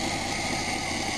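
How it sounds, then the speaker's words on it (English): A rebuilt carburetor on an RV engine idles low and steady, a dense continuous rumble with a constant hum that holds unchanged from start to finish. "It's idling a little on the low side."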